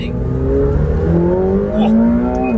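A turbocharged car, a C8 Corvette or McLaren 720S on a back road, accelerates hard, its engine note climbing through gears in loud, close rising sweeps with a brief shift dip.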